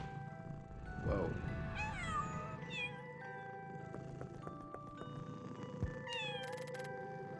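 Several meows from a cat in the video game Pocket Mirror sound over quiet ambient background music, with short bending cries spaced across the passage.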